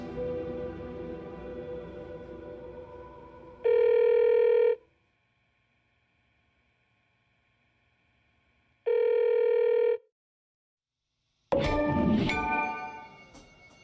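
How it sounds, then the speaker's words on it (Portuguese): A cell phone ringtone in the video game Alan Wake II plays as two identical loud electronic tone bursts separated by silence, following fading ambient sound and leading into a louder burst of game noise. "eles ainda colocam o toque do celular no final"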